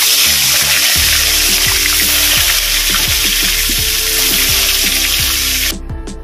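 Pieces of katla fish head fry in hot oil, making a loud, dense crackling sizzle that holds steady and then cuts off abruptly near the end.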